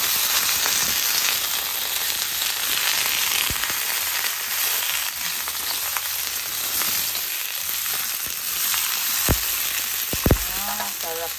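Sea-caught crab sizzles in a pan of hot oil with sautéed ginger, a loud, continuous crackling fry with occasional clatter and scraping of pieces being moved.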